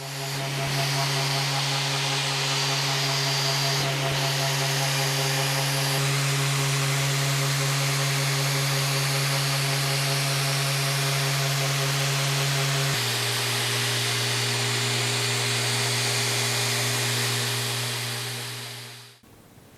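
A MAXXT 6-inch brushless random orbit sander whines at a steady pitch, drops partway through, then winds down quickly to silence at the end, close and loud.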